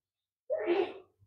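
A single short sneeze sounds close by after a moment of silence, a quick breathy burst followed by a faint exhale.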